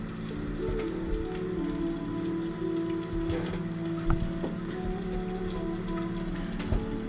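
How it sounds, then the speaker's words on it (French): Rain splashes steadily onto stone under a covered walkway, a continuous even patter with occasional louder drips, carrying on alone without any voices. "Vous entendez bien sûr toujours l'eau s'écraser contre la pierre."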